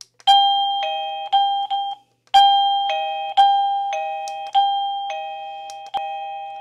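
A loud electronic chime from an AVANTEK wireless doorbell plays several ding-dong tones in succession, clear and close, with short pauses between melodies.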